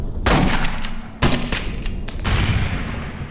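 A grenade-launcher shotgun fires in a video game, with several heavy booming blasts spaced about a second apart over continuous battle noise.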